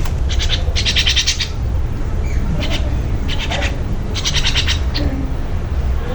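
A pet myna bird gives repeated short bursts of chirping and whistled calls in several clusters, fairly close, over a steady low background hum with no talking.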